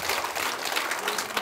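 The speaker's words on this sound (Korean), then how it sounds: "다시 한번 큰 박수 부탁드립니다" Audience applause at a county government development meeting, a dense steady wash of many hands clapping at once, fairly loud and continuous throughout, with no distinct claps standing out.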